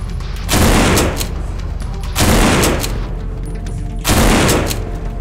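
Three loud bursts of rapid gunfire spaced about two seconds apart, shooting zombies in No More Room in Hell, each volley close and crackling with a short ringing tail.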